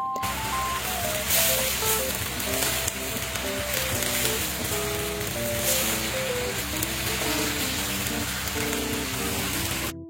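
Mixed vegetables stir-fry in hot oil, giving a continuous dense sizzle and crackle at close range, with steady spattering throughout and a faint musical tone running underneath, and no voices.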